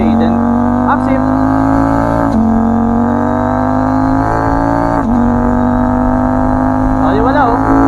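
A CFMoto 800MT motorcycle engine drones steadily through quick-shifter upshifts, its tone breaking briefly at each shift before carrying on, loud and close.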